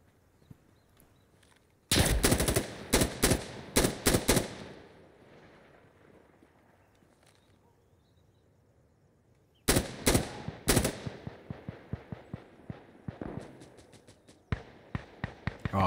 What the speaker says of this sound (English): There's gunshots around here somewhere. I can hear it.